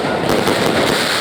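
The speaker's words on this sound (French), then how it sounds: "Des feux d'artifice illuminent le ciel de la résidence" Celebration fireworks burst over a hotel residence to welcome a returning national team and its fans: a loud, steady stream of crackling, rumbling explosions with no voices over them.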